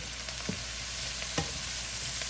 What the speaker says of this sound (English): I want these cabbage to stir fry.